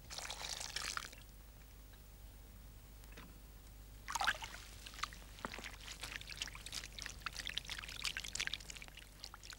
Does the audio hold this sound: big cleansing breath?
no